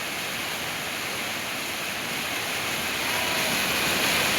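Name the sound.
river in flood after heavy rain, rushing water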